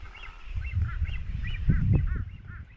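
White terns calling on Laysan Island in the Northwestern Hawaiian Islands, a rapid series of nasal, honking calls repeating close by over a low rumble of wind or surf.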